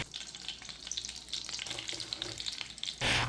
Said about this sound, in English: Add 3 tablespoons oil, then 1 chopped onion.